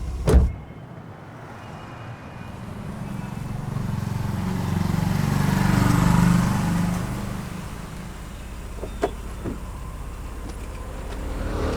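A car engine idles, then rises in a broad surge as the vehicle pulls away and drives off, settling back down with a few clicks and knocks near the end, loud and close.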